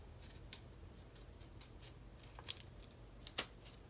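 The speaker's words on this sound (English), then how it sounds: "I'm gonna cut like just this very edge off." Scissors snipping the edge of a printed planner sticker sheet, several quiet, crisp cuts spaced irregularly, with a couple of sharper snips near the end.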